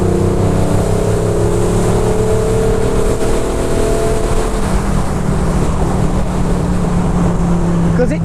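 A TVR S3 sports car engine drones steadily and loud in third gear, its pitch slowly climbing and falling as it pulls, with constant road and wind roar.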